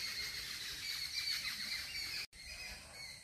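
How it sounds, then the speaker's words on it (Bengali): Birds in a garden give faint, high-pitched squealing calls and chirps over a constant background hiss, with a brief dropout partway through. "এবং পাখিদের আওয়াজও শুনতে পাচ্ছেন আপনারা"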